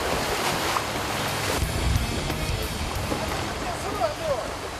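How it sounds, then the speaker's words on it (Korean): Strong sea waves crash and surge around a small boat on open water near Cheongdeung Island, with steady wind noise on the microphone and a few brief voices over the churning surf. "배 위에 서 있지 못할 정도로 심해진 파도."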